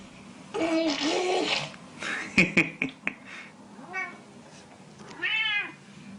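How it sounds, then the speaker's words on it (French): A cat meows several times, with short rising and falling cries, close by, alongside a few sharp clicks and some rustling. "Miaou."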